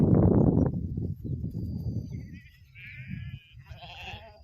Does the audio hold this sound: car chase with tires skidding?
no